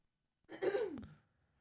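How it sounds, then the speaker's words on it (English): A single short throat clearing, a rough, breathy rasp that rises and drops within about half a second, close to the microphone in a quiet podcast setting. "I'm gonna clear my throat"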